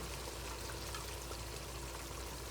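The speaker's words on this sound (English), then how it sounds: "So now we're going to add our vodka." A continuous, close pour of vodka into a pan, a soft rushing hiss, steady and uninterrupted from start to finish.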